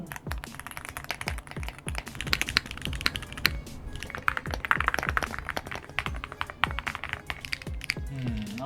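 Rapid clicky keystrokes from one keyboard in a personal keyboard collection patter steadily and close up, with uneven bursts of taps and a few heavier thunks, and no talking.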